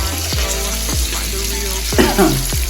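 Fish pieces shallow-frying in a pan, a loud, close, continuous sizzle with a few sharp thumps or knocks against the pan.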